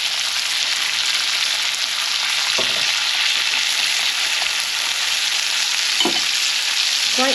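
An ex-dairy cow steak fries loudly in a pan while being basted. A steady, close sizzle runs throughout, with a couple of sharp spoon clicks against the pan.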